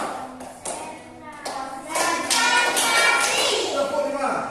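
Schoolchildren in a classroom clap together in short bursts of a counted four-beat pattern, the sharp claps fairly loud and close, with children's voices mixed in.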